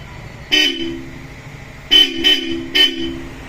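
A Bosch Europa horn on an ADV 350 motorcycle sounds four times, a single honk followed by a pause and then three quick blasts, loud and close over faint background hum.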